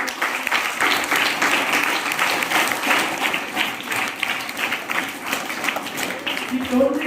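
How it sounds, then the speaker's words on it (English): An audience of students claps for a classmate in a school hall, a steady run of hand claps with voices talking over them throughout. "Yes, clap for him, Varshit."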